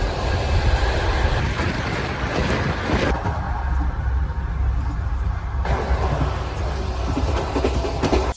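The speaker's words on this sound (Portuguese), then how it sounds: "Agora estamos aqui no trem, vamos para Bukhara" Sleeper train running to Bukhara in Uzbekistan, a loud, steady rumble of rolling carriages with faint clickety-clack and shifting interior noise throughout, with no voices heard.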